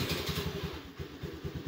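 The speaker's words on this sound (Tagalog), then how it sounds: "pagkagising ko nga ay in-start ko na agad ang aming motor" A motorcycle engine just started in the early morning, idling with a rapid, even putter and slight clatter, close and steady for under two seconds.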